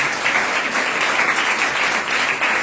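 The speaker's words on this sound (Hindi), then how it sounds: "आइए जोरदार तालियां आज के वचन के लिए।" Loud applause from a congregation at a Sunday church service, a thick, continuous wash of many hands clapping at an even level from start to finish.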